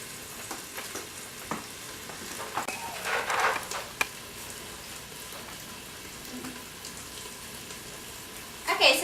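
Chicken browning in an Instant Pot for a stir fry, a soft, steady sizzle and crackle under faint background noise, with occasional scrapes and a brief louder burst near the end.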